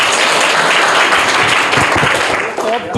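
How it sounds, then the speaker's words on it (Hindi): Loud, dense applause from a crowd at a school quiz competition, continuous clapping for a few seconds, briefly dipping near the end. "करेक्ट आंसर है, जोरदार तालियां"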